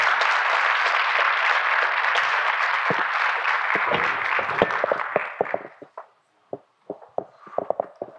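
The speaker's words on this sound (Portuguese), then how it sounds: "Uma salva de palmas, por gentileza." An audience at an oil-industry event applauds during a plaque presentation, a full, loud round for about five seconds before thinning to a few scattered, close individual claps.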